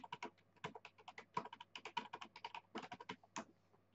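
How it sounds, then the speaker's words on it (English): Keystrokes on a Commodore 64 keyboard, a steady run of crisp clicks in irregular bursts, close and fairly quiet with no talking. "I'll just type in the rest here"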